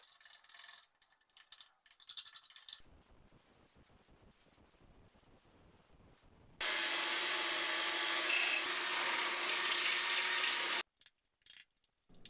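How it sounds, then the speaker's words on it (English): Drill bits bore out spot welds on a BMW E30 325i Touring body with one loud, continuous grinding whir lasting a few seconds, framed by quieter scattered clatter and tool handling. "These bits cut through surprisingly fast, which is good because they went to town on the spot welds."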